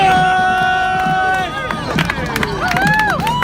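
A New York City crowd cheers and shouts loudly in a continuous surge of overlapping voices and whoops, with a few raised voices standing out above the mass.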